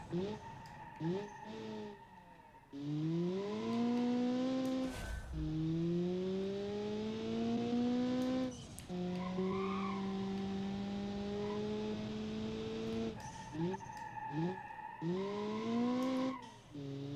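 Race cars in a racing video game rev with rising and falling engine whines as they shift through gears, with bursts of tire screeching through the corners and a voice talking intermittently.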